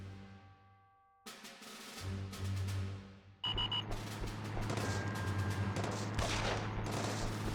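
Gunfire in the video game Simple 2000 EuroTrip, a sudden loud burst of rapid shots that continues as a dense, sustained fusillade, with a short lull before a second, heavier volley.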